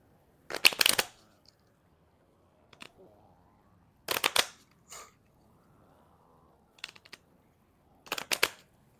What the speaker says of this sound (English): So we just have these cards, and I'm just gonna shuffle it real quick.